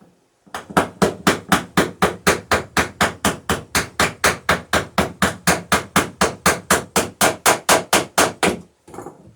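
A hammer strikes a rivet about thirty times in an even, rapid rhythm while planking a wooden John Gardner dory. The blows are loud, close and sharp, and no one speaks.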